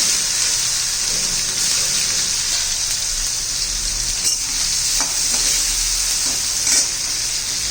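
Tomato hitting hot oil already crackling with mustard seeds and cumin, a loud steady sizzle with a few sharper spits and pops, close and continuous without talk.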